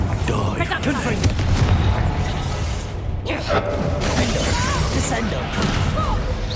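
Confringo spell explosion in the video game Hogwarts Legacy: loud, dense booming blasts and crashing debris over a constant battle din, with a sharp burst in the middle and voices calling out amid the chaos.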